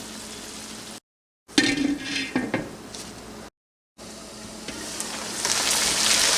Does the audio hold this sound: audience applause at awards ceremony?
no